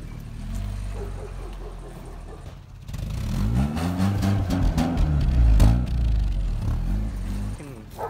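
An engine revs up and down several times, its pitch sweeping upward in surging pulls that grow louder toward the middle, then settles, heard close with no talking.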